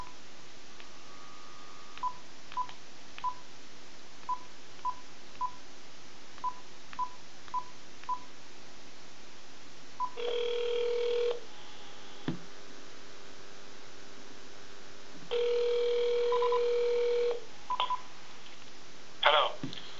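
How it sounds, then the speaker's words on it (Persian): A telephone number is dialed by keypad, a string of about ten short evenly spaced DTMF beeps, followed by two longer ringback tones and a brief click, faint and close on a quiet line. "یه زنگ دیگه بزنم با آقای چمنارا"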